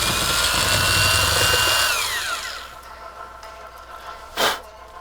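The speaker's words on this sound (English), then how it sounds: "Drilling through plastic is pretty easy." A power drill with a metal wood bit whines loudly as it bores through a plastic flower pot, then spins down after about two seconds, followed by quiet handling noise and a short thump.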